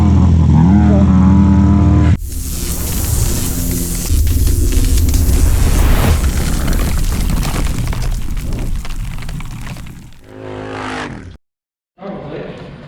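Loud turbocharged engine revving hard in a shop, a sustained roaring burst that holds for several seconds before dropping off, with a brief lower engine note and a pause near the end.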